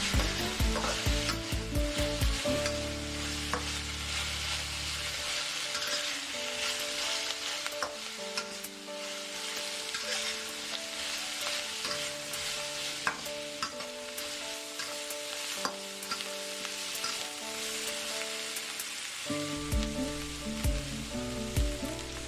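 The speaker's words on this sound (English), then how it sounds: "Add Napa cabbage and snow peas. Stir fry for 2 more minutes." Napa cabbage, snow peas and mixed vegetables stir-fried in a wok, a continuous sizzle with scraping and tossing of the spatula, while soft background music plays.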